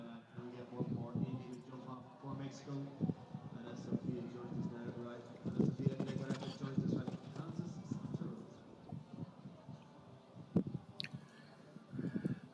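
A show jumping horse's hooves thud and clip-clop across the arena at a CSI3* competition in San Miguel, Mexico, in an irregular rhythm beneath a commentator's voice.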